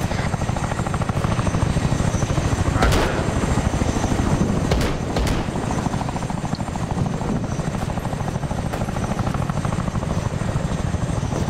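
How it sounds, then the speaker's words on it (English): Helicopter rotor noise from the military game Arma 3, a loud, steady throbbing chop with constant engine roar filling the whole stretch, with two helicopters in the scene. "There's two helis."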